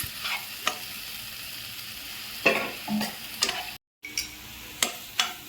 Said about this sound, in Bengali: এখন মশলাটা একটু কষিয়ে নেব